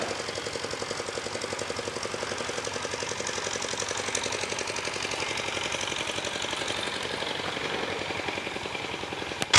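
A small tractor engine plows a field in rural northern Vietnam, giving a continuous rapid chugging, knocking beat at moderate distance that stays steady throughout, with a sharp thump at the very end.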